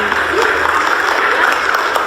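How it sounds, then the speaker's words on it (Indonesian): Brief burst of audience clapping during a live Balinese drama gong stage performance, a continuous patter of many hands heard amid crowd noise and voices. "Oh, Tepuk tangan buat kloset."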